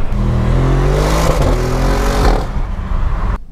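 An Audi RS6 Performance with its 605 PS engine pulls hard under acceleration, a loud rising engine note with climbing harmonics and a throaty rumble that ends abruptly as the revs drop.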